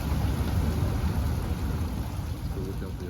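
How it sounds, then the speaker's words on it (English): Heavy rain with thunder pours steadily as a dense, even wash of noise with low rumbling underneath, close and continuous with no voices. "said we just got 30 minutes of heavy rain"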